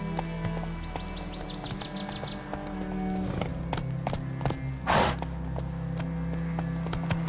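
Roach, a horse in the video game The Witcher 3, gallops with a steady run of hoofbeats over a constant low hum of game ambience, with a brief louder rush partway through.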